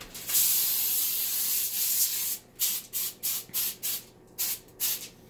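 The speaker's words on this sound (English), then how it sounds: "I'm gonna put the spray first." Cooking spray sprayed into a baking pan: a long continuous hiss, followed by a quick series of short, rhythmic spray bursts close up.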